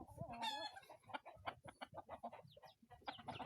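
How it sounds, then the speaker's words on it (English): A cockerel clucks repeatedly in close, loud bursts, one rising squawk near the start followed by a steady run of short clucks. "I'm not scared of a fucking cockerel."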